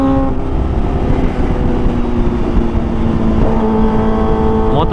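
A Kawasaki ZX25R motorcycle fitted with an Arrow Pro Race exhaust drones loudly and steadily up close, its buzzing multi-cylinder note holding then briefly climbing in pitch near the end.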